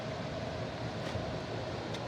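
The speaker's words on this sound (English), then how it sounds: "Excuse the noise. Got the cooler running right now." A swamp cooler running on a half horsepower motor gives off a steady, dense whooshing hum with airy fan noise, unbroken and fairly close, with no voices.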